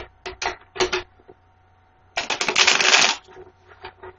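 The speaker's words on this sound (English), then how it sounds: "I'll go ahead and shuffle the cards." A deck of playing cards shuffled close up: a few short riffles and flicks, then a longer, loud riffle-and-bridge burst, a brief pause and a faint final tap.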